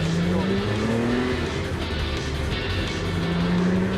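A Ford GT40 is driven with a loud, close engine drone from inside the car, the pitch rising and falling as it revs, with a hint of tire noise throughout.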